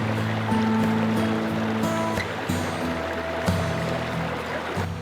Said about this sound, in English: My campsite was located just feet away from the babbling river.